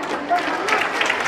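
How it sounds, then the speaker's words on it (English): Audience clapping at an international felicitation ceremony on stage, a continuous wash of applause filling the room while a voice talks over it. "Keep clapping."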